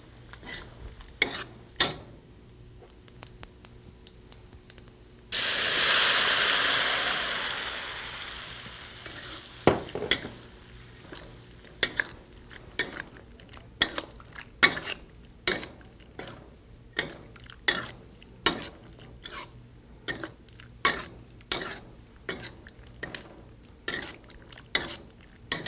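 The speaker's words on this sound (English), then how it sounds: "we're going to throw our beans that have been marinated into the cumin seeds, and we're going to dry fry it for about 8 or 10 minutes" Marinated beans hit a pan of cumin seeds with a loud, sudden sizzle that fades over several seconds. Steady rhythmic scrapes and taps of stirring follow while the beans dry fry.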